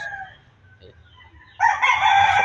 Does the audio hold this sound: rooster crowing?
yes